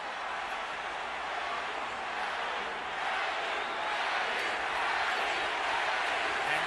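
Boxing arena crowd during a Manny Pacquiao fight against Margarito, a dense, steady roar of many voices filling the space with a slow swell, without a clearly separable chant.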